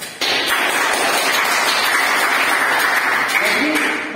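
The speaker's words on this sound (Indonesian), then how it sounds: "Tepuk tangan untuk Kesha" Classmates applaud a student in a history lesson, a loud burst of many hands clapping together that starts abruptly and carries on evenly, with a voice faintly under it.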